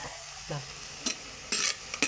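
Quiet cooking on a stove: chicken curry at a soft steady simmer, with a few brief scraping stirs of a utensil in the pot.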